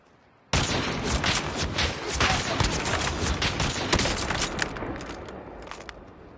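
Rapid bursts of gunfire from a battle royale video game, including a CX9, erupt suddenly and continue densely, overlapping shots crackling loud and close before easing slightly toward the end.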